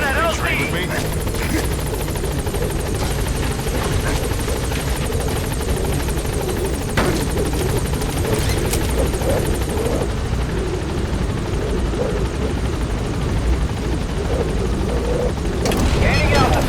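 Helicopter in Metal Gear Solid V approaches and lands at the landing zone, a loud continuous rotor roar and whine filling the scene, with game radio voices and effects layered over it.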